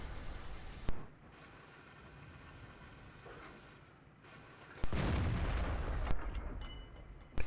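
Tank cannon fire in World of Tanks: a sharp boom followed by a low rumbling battle ambience, then a second louder blast that rolls on for a moment.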